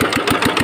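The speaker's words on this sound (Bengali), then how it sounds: "তো আমরা শেষে এটা স্টার্ট দিতে পেরেছি" A small engine, just repaired after a faulty fuel delivery valve kept it from starting, runs loud and close with a fast, even chugging pulse and a rough mechanical rattle.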